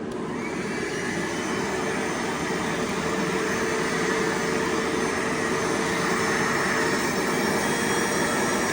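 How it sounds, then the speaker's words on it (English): A steady, whining motorized hum from a small Bissell portable carpet scrubber cleaning a truck seat runs continuously and loud up close, with no speech over it. "I have a little Bissell green carpet scrubber."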